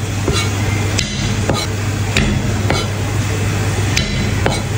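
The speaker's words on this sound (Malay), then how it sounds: "Bawang putih kita ketuk" Repeated sharp knocks of garlic cloves being pounded, at irregular intervals, about ten hard taps over a steady hum, close and loud.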